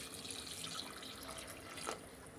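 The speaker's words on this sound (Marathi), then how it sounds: "आता आपण पाणी टाकूया." Water is tipped into a pot of mutton curry, giving a soft, fairly quiet trickling pour with a brief splash near the end and no speech.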